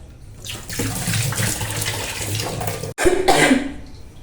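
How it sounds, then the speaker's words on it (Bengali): A cough breaks out at a kitchen sink while dishes are being washed, with running tap water splashing steadily throughout and a short pause before the water resumes. "ক্যামেরাটা অন করতেই কাশি পেয়ে গেল"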